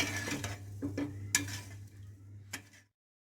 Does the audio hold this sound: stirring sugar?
yes